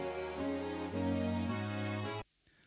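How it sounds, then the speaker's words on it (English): Software violins in a song recording hold one sustained bowed phrase that shifts pitch a few times before cutting off, close and alone. "I also have some violins, which I will automate when I mix them."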